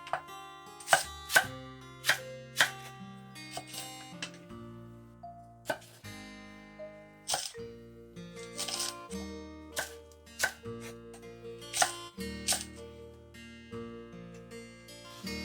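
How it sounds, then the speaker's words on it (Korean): A knife chops green onion and chili peppers into large diagonal slices on a cutting board, giving a steady run of loud, sharp, close strikes with short pauses between, and no voices. "대파랑 고추는 큼직하게 어슷썰기 해주세요."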